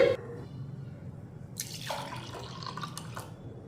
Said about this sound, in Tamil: இன்னும் கொஞ்சம் தண்ணி ஊற்றிக்கிடுவோம்